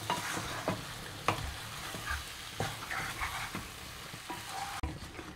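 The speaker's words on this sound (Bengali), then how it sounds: "এটা বেশ কিছুক্ষণ ধরে আমাকে কষতে হবে।" Desi chicken pieces are stir-fried in a pan for a spicy Bengali jhol, making a soft, continuous sizzle. Irregular taps and scrapes from stirring sound through it at a moderate distance.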